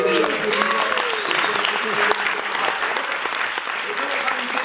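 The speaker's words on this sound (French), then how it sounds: "vous pouvez déjà l'applaudir" A studio audience on a France Inter radio show applauds steadily for the whole stretch, a dense, even clapping close to the microphone.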